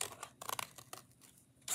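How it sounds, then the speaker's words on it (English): Scissors snip through a cardboard box being cut apart for a homemade band-aid holder, a rapid run of close, crisp cuts and crinkles followed by short isolated snips with quiet gaps between. "So take scissors."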